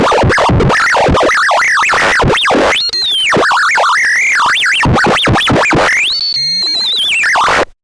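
Electric guitar solo through a heavy effects patch in a style from around 2007, with loud, warbling pitch-sweeping squeals and glitchy stutters, dense and up close.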